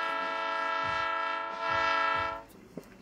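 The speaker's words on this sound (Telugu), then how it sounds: "ఈలోపు ట్రైన్ స్టార్ట్ అయిపోయింది." A train horn blares loud and steady for over two seconds as the train starts to move, then cuts off, leaving a low rumble and a sharp metallic clank.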